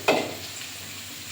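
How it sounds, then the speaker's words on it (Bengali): Potatoes frying in oil in a village kitchen start with a sharp burst of crackle, then settle into a faint, even hiss for the rest of the moment. "এদিকে আলুটা ভাজা হতে থাক"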